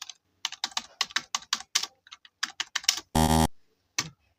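Python code is typed on a computer keyboard: quick, crisp, closely spaced key clicks in bursts, with one longer, louder clack near the end and no talking.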